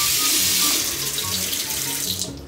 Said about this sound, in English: Okay, turn off the water.